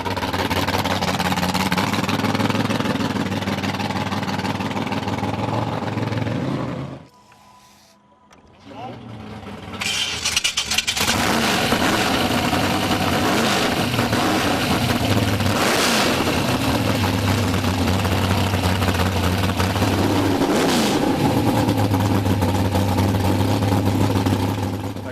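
A Ford car with a 351 Windsor stroked to 408 cubic inches revs loudly at a national Ford event, its engine roaring steadily with a brief drop near the middle before surging again; people talk over it throughout.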